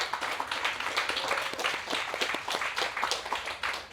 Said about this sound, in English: If you could stand up, please, first to give you a round of applause.